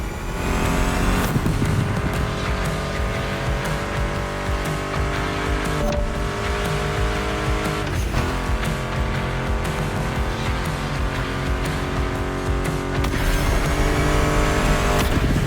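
Muscle car engines roar and rev continuously in The Crew Motorfest racing game, loud and sustained under a pounding music soundtrack, with steady engine drone throughout.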